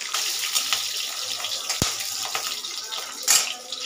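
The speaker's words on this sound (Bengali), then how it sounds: "5টা কাঁচা লঙ্কা ফোড়ন দিয়ে দিচ্ছি" Five green chillies hitting hot oil, giving a steady close hiss and crackle of frying with a single sharp knock partway through and a brief flare of spitting near the end.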